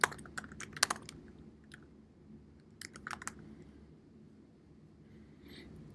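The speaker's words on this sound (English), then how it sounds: "I can type in a term or phrase that would be easy for others to remember for my URL" Computer keyboard typing in short bursts of key clicks, close and clear over a quiet room hum, with pauses between runs; no one speaks.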